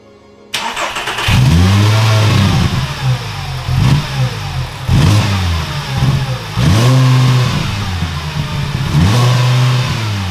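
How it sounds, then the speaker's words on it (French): A car engine, in a car under restoration that has a problem at high RPM, idles and then revs up repeatedly, climbing high several times in rising and falling surges, loud and close. "si on fait monter le moteur en RPM"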